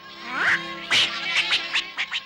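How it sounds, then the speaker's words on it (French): Cartoon duck quacking in a quick series of about six nasal quacks, close and loud, alone with no talk. "Non, petit canard, tu restes là."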